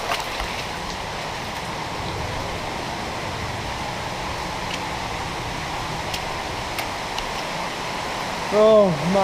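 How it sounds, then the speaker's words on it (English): A waterfall inside a cave in Bali, a steady broadband rush of falling water that fills the whole space, with faint echoes and a short voice near the end. "This is a waterfall in a cave."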